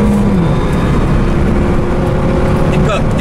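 A Renault Megane RS at full throttle on the Istanbul Park circuit, its engine droning loud and steady from inside the car as the pitch climbs under acceleration.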